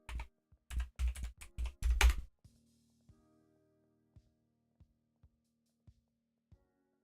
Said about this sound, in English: I'll type it out.